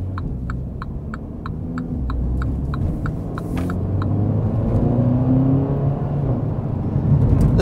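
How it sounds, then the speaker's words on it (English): A 2020 MINI John Cooper Works Clubman engine hums and builds steadily as it accelerates, with a rising exhaust drone and a faint rapid ticking early on. "The sound of the exhaust, that note when it shifts, just makes a pop."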